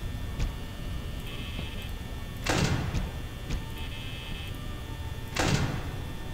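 Two loud knocking bursts on a door in Five Nights at Freddy's, each a cluster of sharp raps about three seconds apart over a steady low electrical hum, with faint ticks in between and no talk.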